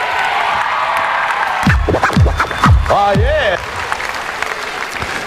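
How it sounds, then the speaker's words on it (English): A comedy show audience bursts into applause, cheering and whoops after a spoken line, with a voice briefly heard over the crowd before the noise settles. "Ladies and gentlemen, I think women deserve a round of applause."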